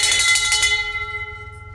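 A bell is struck once, loud and close, with a bright clang that fades into a long ringing decay of sustained tones over a low background hum.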